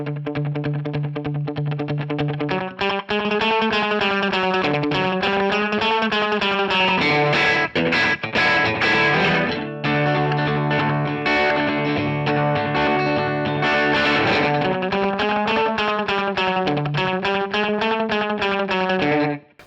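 Rockabilly electric guitar played through a Kemper Profiler with slap-back delay, a driven, echoing tone running continuously through bright chord and lead phrases, loud and alone with no talk.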